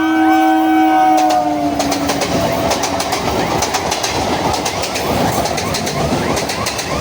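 A train rumbles past at the Gangadharpur railway level crossing, steady clattering and rushing noise filling the clip after a brief tonal horn-like whine at the start.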